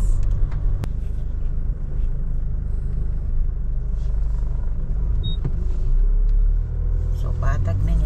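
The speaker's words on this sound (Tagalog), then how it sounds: "Four-wheel drive siya. Kaya nagana yung suspension ng sasakyan niya." A four-wheel drive vehicle travels over a rough road, its cabin filled with a steady low rumble broken by a few bumps and rattles, while a voice speaks over it.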